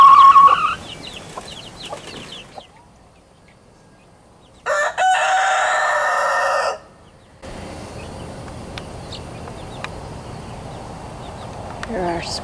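Chickens on a farm, a mother hen with her young chicks dirt bathing, give short crowing and clucking calls near the start and again in the middle, with quieter spells and outdoor noise in between.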